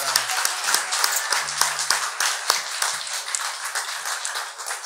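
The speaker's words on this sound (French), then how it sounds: "On t'applaudit grandement." A church congregation applauds a departing volunteer named Suzanne, dense hand clapping filling the space at steady loudness for several seconds, with a few sharper individual claps standing out and faint murmuring beneath.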